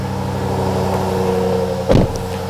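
A Jaguar F-Type SVR with a freshly replaced engine idles and rumbles steadily on its first drive, a loud close engine drone with a brief rev-like bump near the end and no talking.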